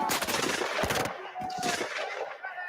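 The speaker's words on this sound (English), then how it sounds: "the two sides engaged in some firing back and forth" Rapid bursts of historical musket fire as colonial New Englanders and French defenders exchange shots in forest near the Louisbourg fortress, a dense crackling volley that pauses briefly before resuming, loud and close.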